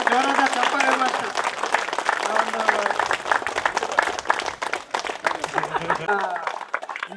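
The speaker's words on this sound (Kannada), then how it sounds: "ಜೋರಾದ ಚಪ್ಪಾಳೆ" A crowd claps loudly at a pyramid king chamber opening ceremony in Somusamudra, Ballari, with dense sustained applause mixed with voices and chatter, tapering slightly near the end.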